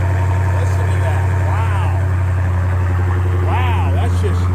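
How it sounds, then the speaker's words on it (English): A car idles at a Sunday car meet with a loud, heavy exhaust. The engine gives a steady low rumble close to the mic, and voices and whistle-like cheers rise over it twice. "I can't get over how much exhaust that has"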